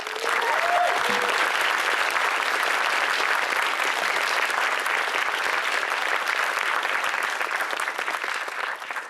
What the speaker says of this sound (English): I'd like to round of applause for the speakers again